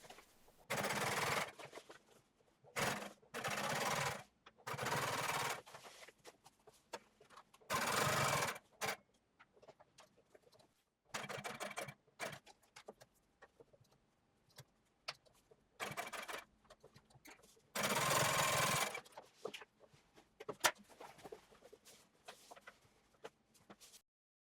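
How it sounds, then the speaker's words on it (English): A sewing machine runs top stitching through ultra-thick denim jeans in loud, steady bursts of rapid mechanical whirring. The bursts are separated by short pauses and quieter handling noises. "So finish the back with the second row of top stitching."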